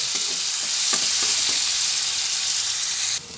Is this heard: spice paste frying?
yes